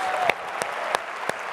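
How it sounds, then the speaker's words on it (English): Steady applause from an audience at Sony's E3 2010 press conference fills the whole stretch, with a few sharper claps standing out from the dense wash of hands. "How about another round of applause for Herman and the guys from Guerrilla Games?"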